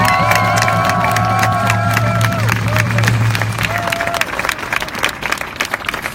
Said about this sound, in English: Can I have one more time a big applause for Najib?